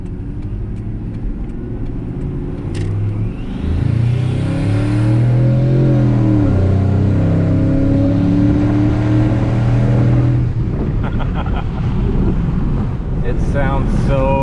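A big-turbo Ford F-150 sleeper truck with an exhaust cutout open accelerates hard onto a freeway. Its loud engine climbs through rising tones, sustained for several seconds, then drops back toward a steadier cruise, with wind noise throughout.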